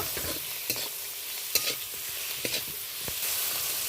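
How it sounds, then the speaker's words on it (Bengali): Onion and tomato fry with turmeric and salt in a pan under a constant soft sizzle, broken by several sharp scraping clicks of a spoon stirring at an irregular pace. "এইভাবে আরও আমি বেশ কয়েক সেকেন্ড ভালো করে নাড়াচাড়া করে নেব।"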